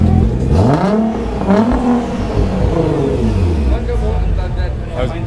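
A 2021 Nissan GT-R Nismo engine, out of gear, revs up and down repeatedly, bouncing loudly against its soft rev limiter at the top of its range, with people talking over it nearby.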